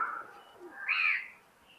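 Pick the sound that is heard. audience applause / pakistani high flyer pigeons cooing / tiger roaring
pakistani high flyer pigeons cooing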